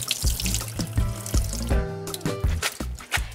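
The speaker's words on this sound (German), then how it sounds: "Dann werde ich jetzt die Nudeln mit kaltem Wasser abschrecken." Cold tap water runs and splashes into a sink as yakisoba noodles are rinsed beneath it, with clattering and sloshing, close and continuous.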